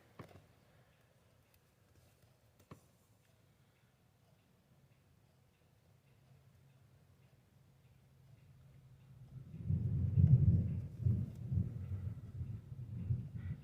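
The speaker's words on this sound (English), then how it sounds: "And yes, there's a thunderstorm going on right now." Distant thunder from a passing thunderstorm: after a long quiet stretch with a couple of faint ticks, a low rumble swells and rolls for several seconds near the end.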